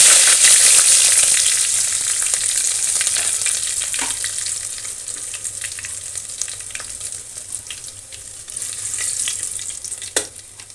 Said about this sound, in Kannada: ಈ ರುಬ್ಬಿರೋ ಮೆಣಸು ಮತ್ತು ಜೀರಿಗೆ ಹಾಕ್ತಾಯಿದ್ದೀನಿ. ಈ ಎಣ್ಣೆಲೆ ಹುರಿದ್ರೆ ಅನ್ನ ತುಂಬ ಚೆನ್ನಾಗಾಗುತ್ತೆ.